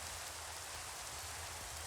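Rain falling in Minecraft, a steady broadband hiss of the game's rain sound, faint and unbroken throughout with no voices.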